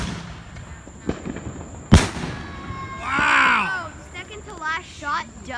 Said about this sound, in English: Now we got some Quest canister shells.